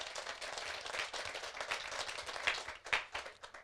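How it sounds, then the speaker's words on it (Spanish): A church congregation applauding during a Catholic Mass, a dense sustained burst of many hands clapping throughout, heard from within the room at moderate level. "Fuerte ese aplauso, la palabra de nuestro Dios y Salvador Jesucristo"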